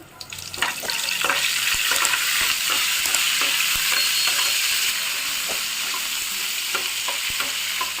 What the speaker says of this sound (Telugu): ఎండుమిర్చి కరివేపాకు వేగినాయండి